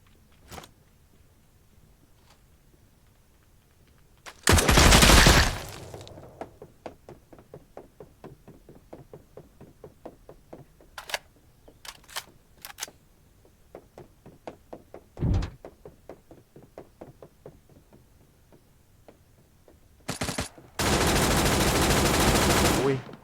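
Gunfire in the mobile shooter Badlanders Mobile: bursts of loud rapid shots and single heavy reports, with long roaring blasts and scattered clicks between them. No one speaks.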